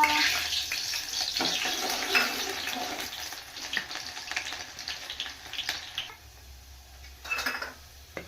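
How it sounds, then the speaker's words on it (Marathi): Onion dropped into hot oil in a home kitchen pan, a close, continuous sizzling hiss that eases off toward the end, with faint stirring clatter. "तेल गरम झालं, कांदा टाकायचा."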